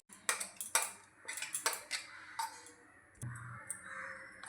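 Neem leaf paste being pushed and stirred through a sieve with a spoon, giving a run of close, irregular metallic scrapes and clinks against the mesh and bowl, followed by a softer, steadier rubbing.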